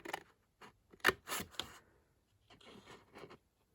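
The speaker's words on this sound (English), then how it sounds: "you're going to cut down that score line that you made" Sharp snips of scissors cutting paper squares for a card craft, a cluster of quick close cuts followed by a softer run of cutting strokes, with no talk.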